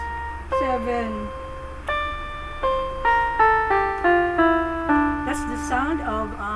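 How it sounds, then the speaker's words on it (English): A minor scale picked out on an instrument, distinct notes stepping up one after another at a moderate even pace, clear and close with no talking over it. "That's the sound of a minor."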